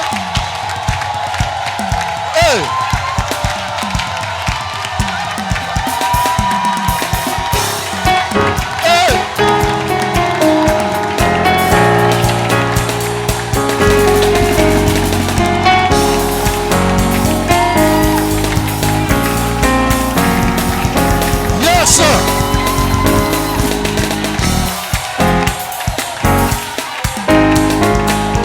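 A church congregation at a Sunday service cheers and shouts in acclaim, a dense, loud crowd roar that runs almost without a break, mixed with voices and rising excited yells.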